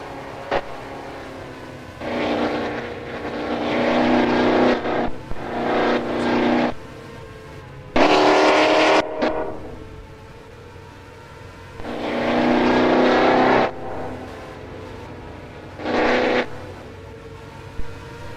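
A Formula Micro race car running a lap downhill in a racing game, its engine note rising and falling in loud separate bursts of acceleration between quieter coasting stretches.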